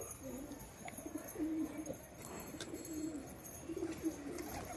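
A pigeon coos in soft, low, repeated rolling phrases at close range over a faint background hiss, with no speech.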